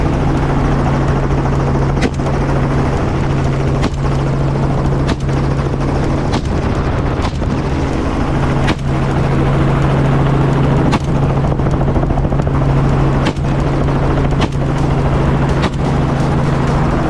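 A helicopter flies during a wild boar hunt in Canada, its loud, steady rotor drone continuous and close, with regular faint thumps running through the whole stretch and no voices.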